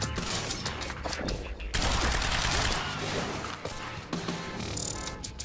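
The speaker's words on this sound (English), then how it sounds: "I can put a few bullets in, which will stop just outside the shield" Gunfire in the action video game Quantum Break comes as loud, rapid bursts of shots and impacts throughout, dense and continuous, with some game effects mixed in.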